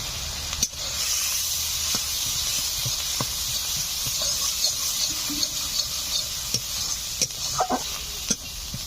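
Ground cumin and turmeric sizzling in a hot pan for a Bengali village-style besan fritter curry: a steady, close, hissing fry throughout, broken by occasional light taps and scrapes of a stirring utensil.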